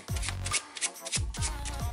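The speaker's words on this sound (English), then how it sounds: "it really looks like you're just totally shuffling the cards" A deck of playing cards is shuffled in close, crisp bursts of rapid riffling flutter, with repeated shuffles in quick succession and no talking.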